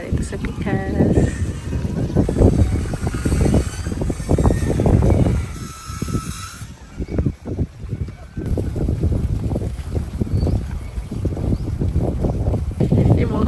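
Wind gusts across a seaside beach, a steady broadband rush with rough buffeting against the microphone, running throughout beneath people talking nearby.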